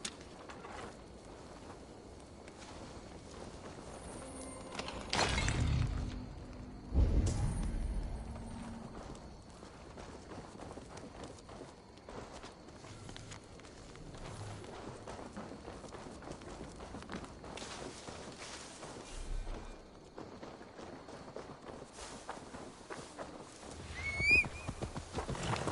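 Horse hooves clip-clop and gallop in Assassin's Creed Valhalla, steady hoofbeats with a couple of louder bursts, a whinny and occasional bird calls in the background, no talking.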